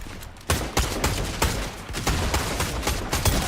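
A rapid, steady string of gunshots in the video game Fortnite cracks out close and loud, shot after shot in quick rhythm.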